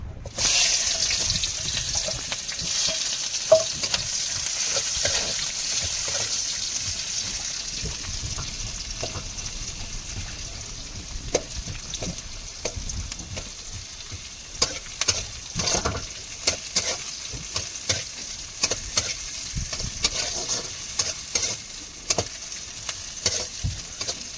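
Chopped onions sizzle in hot oil for a Bengali fish curry, a steady hiss through the whole stretch with scattered stirring scrapes and clicks growing more frequent toward the end, close and alone with no talk.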